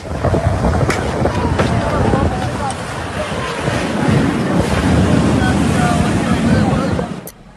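Strong storm winds in Mecca, Saudi Arabia, roaring and buffeting against the microphone, loud and continuous with gusty surges, then cutting off abruptly at the end.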